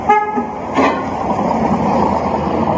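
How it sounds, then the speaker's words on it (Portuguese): A short car horn toots near the start, followed by a brief blare, then steady traffic rumble continues. "Alguém buzina, provavelmente um apoiador, ele acena."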